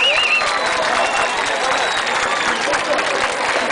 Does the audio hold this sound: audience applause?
yes